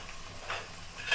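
Ginger garlic paste fries on a low flame in a pan, a soft quiet sizzle with light stirring scrapes, heard alone for a brief moment.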